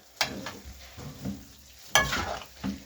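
Spaghetti stirred and fried in roast masala with chicken, giving a steady sizzle broken by a few sharp scraping strokes of the spoon, close up.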